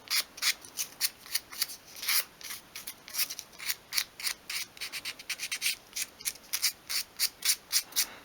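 Fine grade sandpaper sweeps back and forth over small cut pieces of a 1/12th scale Welsh dresser, a quick, even rhythm of soft raspy strokes, close and quiet with no talking.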